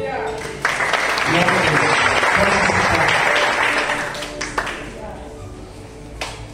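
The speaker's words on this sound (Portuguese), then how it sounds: "Aplauda o Senhor." A church congregation applauds during an evening worship service, a dense wave of clapping that swells loud for several seconds, then thins and tapers off near the end.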